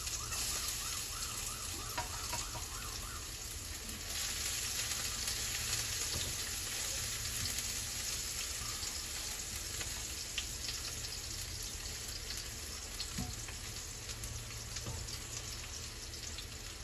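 Garlic frying in a pan for Filipino sinuam na langisi, a steady loud sizzle and crackle running continuously without pause, close up with no talking.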